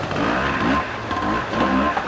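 Aprilia trials motorcycle engine revving at a world trials round in Walker Valley, Washington, a loud, steady, close buzz with slight rises in pitch throughout.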